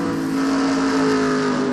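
NASCAR stock cars racing at New Hampshire in a video game, a dense, continuous engine roar from a close pack of cars, loud and steady with no talking over it.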